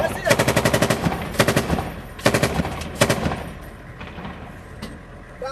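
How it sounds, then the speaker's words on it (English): Bursts of automatic gunfire crackle during the battle for Mosul, several rapid rattling volleys close by and loud, separated by short pauses, before fading to quieter background noise. "And a lot of gunfire."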